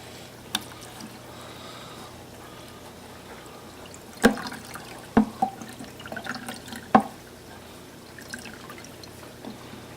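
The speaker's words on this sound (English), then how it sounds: "pour it in a small container, and you just squeeze it out" Water squeezed from an aquarium filter sponge drips and splashes into a small container in a few distinct bursts, with quiet pauses between them.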